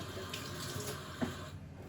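Water from a kitchen tap pours steadily into a pot to cover pork ribs set for boiling, a continuous close splashing rush with a small clink near the middle.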